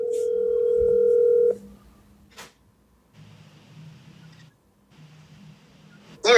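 Steady telephone tone during a trivia match's phone-a-friend call, ending in a click, followed by faint dialing or ringing tones and then a louder burst at the end.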